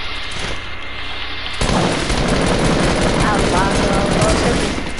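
Video game gunfire, a dense rapid burst of shots that starts abruptly and keeps going, loud and close, with people talking over it.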